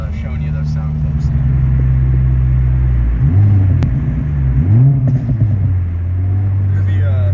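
Honda Civic Type R FL5 fitted with an HKS blow-off valve pulling hard through third gear, a loud steady engine drone rising and dipping with shifts and burbles, heard from inside the cabin.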